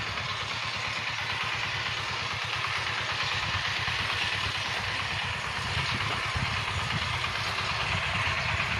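Engine of an oil pump running in a steady, rapid low chug, close and continuous, with a constant mechanical drone and no speech over it.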